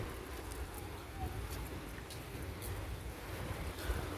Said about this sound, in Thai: น้ำไหลเชี่ยวมากครับไหลแรงนะครับ เสียงแม่น้ำนะครับ